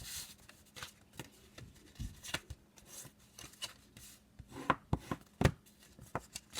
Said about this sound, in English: we're going to fold on our score lines